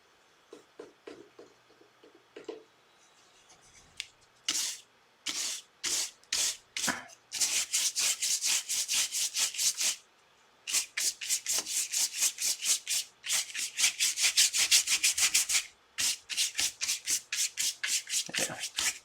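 Gesso being brushed onto a painting surface, starting with scattered light strokes and building into dense, rhythmic scrubbing bursts close by, with brief pauses between runs.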